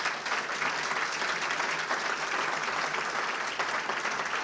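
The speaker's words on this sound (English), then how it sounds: "Give them a big round of applause" Steady, moderately distant applause from an audience at a regional state-of-the-region gathering, continuous clapping with no talk over it.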